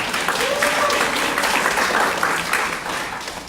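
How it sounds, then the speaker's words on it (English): An audience at a housing forum bursts into loud, dense applause that swells and then tapers off over a few seconds, with some voices mixed in. "Let's give her another big round of applause."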